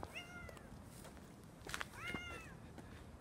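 Kittens meow repeatedly during an outdoor walk, several short rising-and-falling cries in a burst at the start and again near the end, fairly close against steady background noise.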